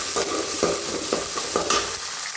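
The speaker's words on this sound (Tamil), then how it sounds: "இப்போ வெங்காயம் போட்டுக்கலாம் தக்காளி போட்டுக்கலாம்" Onions and tomatoes sizzle in a pan for sundakkai sambar, a steady frying hiss broken by a few regular stirring scrapes, close and without speech.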